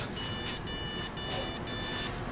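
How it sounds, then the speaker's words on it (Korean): An opened-up electronic device with a 600 W power supply emits four evenly spaced, high electronic beeps, fairly close and clear over faint background noise. "소리 나네. 삐삐삐삐."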